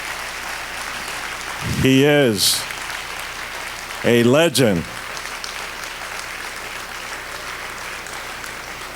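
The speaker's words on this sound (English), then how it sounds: "y'all can keep clapping" Continuous audience applause at a civil rights keynote event rolls on steadily as a broad wash of clapping, while someone speaks briefly twice over it.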